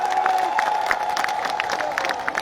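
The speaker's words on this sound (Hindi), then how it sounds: "जोरदार तालियों से स्वागत, अभिनंदन।" A crowd at a public gathering in Bikaner cheers and claps to welcome a popular legislator, a dense, continuous burst of shouts and scattered applause close by.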